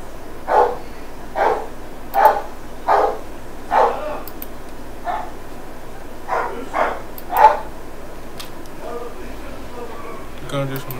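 Dog barks in a video game come in a run of about ten short, evenly spaced yaps at moderate loudness over a quiet, steady background, with a few faint clicks near the end.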